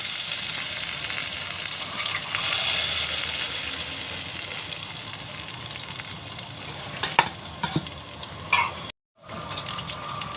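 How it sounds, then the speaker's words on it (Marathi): Garlic fries in hot oil in a pan with mustard seeds and cumin, giving a loud, steady crackling sizzle that carries on throughout, with a brief silent gap near the end. "लसूण चांगली भाजली आहे"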